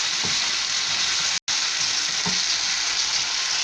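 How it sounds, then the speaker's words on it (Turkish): Chicken and rice sauté in a pan for pilaf, giving a steady, dense sizzle with a few soft stirring knocks throughout. "piliçlerimi kavuruyorum"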